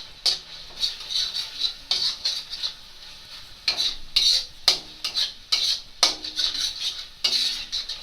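A spoon scrapes and stirs ground coriander, red chilli powder, Kashmiri chilli powder and salt into a soya chunk and potato curry in a metal pan. Repeated bursts of stirring and scraping come with a soft sizzle, close and fairly loud, with no talk.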